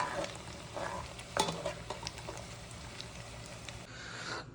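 Onions fry in hot oil for a masala gravy, a soft continuous sizzle broken by scattered stirring scrapes and clinks of a spoon against the pan, at moderate volume with no talking.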